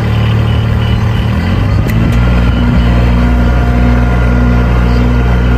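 A rice planting machine's engine runs loud and steady at close range, a constant mechanical drone with a brief clatter partway through, no voices.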